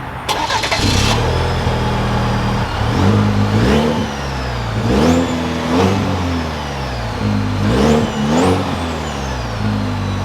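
A 2023 GMC Canyon AT4 engine cranks and catches, then gets revved repeatedly, with loud rising and falling swells over a steady idle close by.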